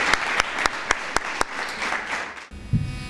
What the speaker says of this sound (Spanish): Primero que nada, un aplauso y agradecer su participación.